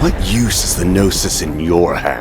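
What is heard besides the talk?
No distinct noise like a dog, phone or traffic.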